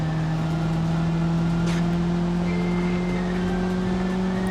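A Fiat 125p in BeamNG.drive accelerates on a TopGear-style track, its engine a loud, steady drone holding a constant pitch that climbs slightly, running continuously with no talk over it.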